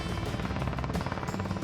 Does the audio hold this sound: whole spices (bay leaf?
no